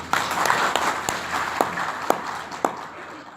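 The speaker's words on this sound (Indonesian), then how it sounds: "mari kita berikan tepuk tangan yang meriah buat beliau" An audience at an Indonesian academic conference bursts into applause, a dense spread of clapping with a few sharp louder claps standing out, fading slightly toward the end, with a voice faintly over it.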